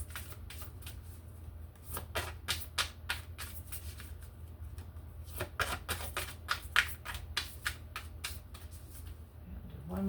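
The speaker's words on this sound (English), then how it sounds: "Do one more shuffle." Tarot cards being shuffled by hand in a series of quick riffling bursts, close and fairly quiet, with brief pauses between shuffles and no talking.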